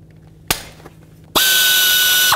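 Power tool with a 12 mm socket loosening the tensioner mounting bolts on a 1999–2003 Toyota Solara, a sharp click, then a loud steady whirring burst lasting about a second, close by.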